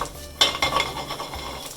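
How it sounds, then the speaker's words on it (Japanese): Shishito peppers stir-fry with bacon in a pan with a soft sizzle, while a utensil scrapes and clinks against the metal in irregular strokes. "焦がさないようにゆっくり炒めていきます。"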